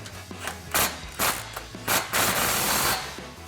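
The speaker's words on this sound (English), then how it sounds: "grab our impact 13mm socket, tighten this down" Impact wrench with a 13mm socket tightening a factory ball clamp on a Chevrolet Silverado 1500 exhaust, giving several short loud hammering bursts of about half a second each, close by with no talk.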